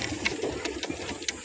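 Low, soft cooing from pet pigeons in a coop, a steady murmuring drone with a few sharp clicks and rustles over constant background noise.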